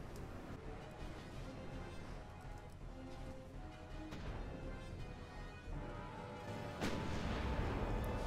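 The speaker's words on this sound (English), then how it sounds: "Oh, they're firing back again." Warship artillery in the naval video game Ultimate Admirals: Dreadnoughts, heard as dull distant booms and rumbling impacts under a continuous low din, with a heavier blast near the end.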